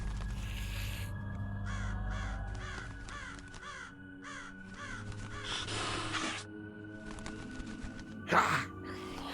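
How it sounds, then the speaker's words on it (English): A raven gives a series of harsh, rhythmic caws, several calls in quick succession rising above a low rumbling background, with a sharper burst near the end. "Raven."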